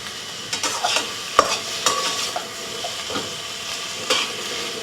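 Garlic chicken stir-fried in a pan over a Volcano Grill outdoors: a steady sizzle broken by scraping and clinking of a utensil against the pan, close and alone with no talk.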